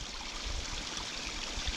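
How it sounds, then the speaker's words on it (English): Steady rushing water splashes continuously into a pool, a soft even wash with no voices. "it gives you the waterfall"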